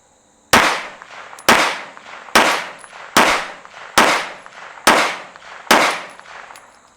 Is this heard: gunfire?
yes